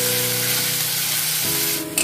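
Chopped onion fries in a hot pan for veg Manchurian, giving a steady, close, fairly loud sizzle that holds evenly throughout with no voices.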